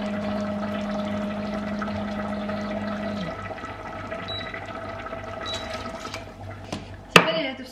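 Water poured into a pot of rice on a home stove, a steady pouring and gurgling stream that tapers off and ends with a sharp clank near the end, with no talk.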